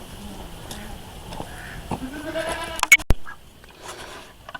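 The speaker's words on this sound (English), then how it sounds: "We're going to take the goats down to the pasture." Goats bleat a few times amid rustling and shuffling farmyard noise, with a couple of sharp knocks near the end.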